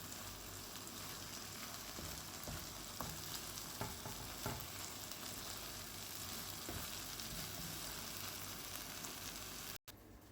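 Scrambled eggs frying in a pan give a dense, continuous crackling sizzle with scattered pops, steady throughout and close by, ending in a sudden brief dropout near the finish; no voices.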